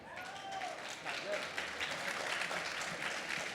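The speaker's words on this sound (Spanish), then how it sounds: "Un aplauso para él." Audience applauding a promoter of Amazon culture at a gastronomy congress, a moderate wash of clapping from a seated crowd, fairly faint and steady for a few seconds.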